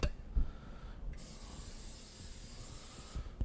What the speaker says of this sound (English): I'm going to get just a little bit of spray in the pan just to make sure that it's not going to stick really bad.